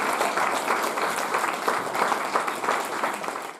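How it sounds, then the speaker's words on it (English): Steady audience applause from a small group of volunteers at a maker event, dense and continuous for several seconds with no voices over it. "a round of applause"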